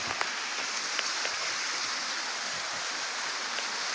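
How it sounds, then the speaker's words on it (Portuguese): Tall waterfall cascading in a steady, hissing roar, a dense continuous wash of falling water with faint splashy ticks, close and loud with no voices. "A cachoeira alta"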